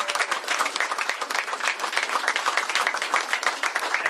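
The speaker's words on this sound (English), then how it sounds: "give her a huge round of applause" Audience applause for a new lawmaker at a governor's bill signing, a dense, steady roar of many hands clapping close and loud for the full stretch, with no voices breaking through.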